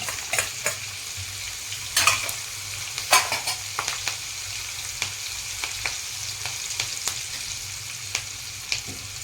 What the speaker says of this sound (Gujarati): 1 કટ કરેલું લીલું મરચું નાખીશું.